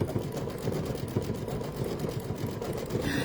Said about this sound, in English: now it is going to do that famous decorative stitch on top of our satin